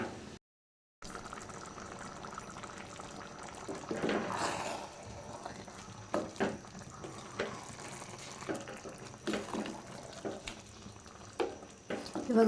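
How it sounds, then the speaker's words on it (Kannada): Vegetable bath rice is stirred and fried in a pan, with a soft continuous sizzle under repeated scraping strokes of a spoon against the pan, heard up close with no talking. "ಇವಾಗ ಒಂದು ಮಿಕ್ಸ್ ಕೊಡಿ ಹಾಗೆಯೇ, ಇಲ್ಲಾಂದರೆ ತಳೆ ಹಿಡಿಯೋಗ್ಬಿಡುತ್ತೆ"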